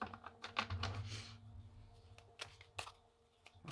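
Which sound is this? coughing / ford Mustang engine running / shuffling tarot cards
shuffling tarot cards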